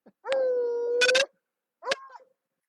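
A dog outdoors lets out a long, loud howl that breaks into a whimpering yelp, then after a pause gives a shorter, falling whine, close by with no talk.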